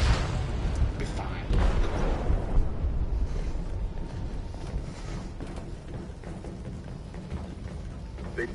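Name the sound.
explosive detonated in a ship's hold, video game Detroit: Become Human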